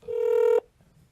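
A single telephone ringing tone during a call, one steady electronic burst of about half a second that cuts off abruptly, followed by quiet room noise.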